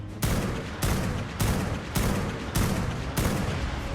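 Six heavy gunshots ring out in ARK, evenly spaced about every 0.6 seconds, each a loud sharp blast with a booming tail that rolls into the next, with no talking.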